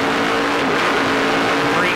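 Race cars roar past on a tight road course during a 2011 ICAR Grand Prix, a loud, dense engine wash with a rising whine near the end.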